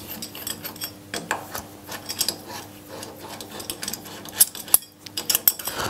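Screws are worked out of the top jaw of a vise by hand, with small metallic clicks, scrapes and ticks in an irregular sequence over a faint steady hum, close and fairly quiet.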